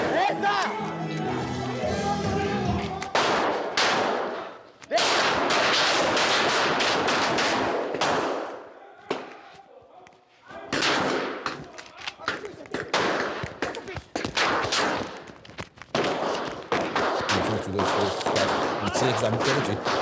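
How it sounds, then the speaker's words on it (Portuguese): Recorded footage of rapid gunfire inside a nightclub, dozens of shots in dense bursts and volleys separated by brief pauses, with crowd noise and excited voices in between. "Vejam a quantidade de tiros dentro de uma boate."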